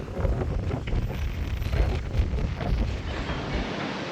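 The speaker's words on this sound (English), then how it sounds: "it's extra windy today too" Strong wind buffets the microphone beside a boat hauled out on land in Panama, a continuous low, rumbling roar with gusty surges, loud and close, with no voices.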